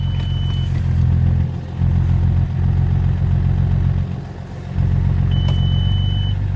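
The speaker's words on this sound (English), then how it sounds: "The whole engine sounds a bit noisier" An Audi 3.0 TDI diesel engine with an injector fault idles nearby in a steady, slightly noisy rumble, with a few short dips in level and faint clattering on top.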